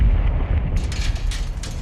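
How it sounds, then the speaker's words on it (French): Missile explosion in Call of Duty: Modern Warfare 2's AC-130 campaign mission, a loud sustained rumbling boom with deep low-end roar and crackling bursts, no talk over it. "Missile en approche. Contre-mesure envoyée."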